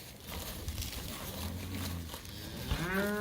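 Cattle being driven onto spring grass with young calves; a cow gives a near, rising moo toward the end over a steady outdoor background of shuffling and low animal noise, with no talk.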